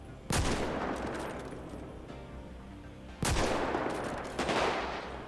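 Rapid automatic gunfire blasts at zombies in the video game GTA V, coming in three dense, loud bursts, each sustained for a second or more with brief gaps between.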